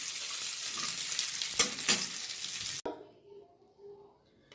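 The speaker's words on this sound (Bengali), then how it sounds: "ঘিয়ের মধ্যে এগুলো দিলাম, এখন আমি ভেজে তুলে নেই আগে।" Dry fruits fry in hot ghee in a pan with a loud, continuous sizzle and a couple of sharp stirring scrapes. The frying cuts off abruptly partway through, leaving only a faint low hiss.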